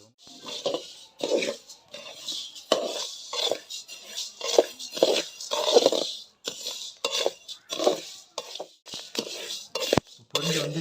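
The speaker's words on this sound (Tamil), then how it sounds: "கிண்டி விட்றா" Rice roasting in a pan at a village cookstove is stirred over and over with a spoon, a rhythmic series of dry scraping and rustling strokes close up, each lasting under a second.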